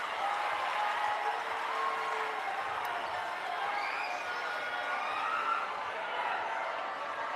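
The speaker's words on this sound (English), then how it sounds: "that's what you expect from the Philippine crowd cheering on the Philippines" A Philippine home crowd cheers and applauds at a women's football match against Thailand, a steady, moderately distant roar of voices and clapping that holds for several seconds.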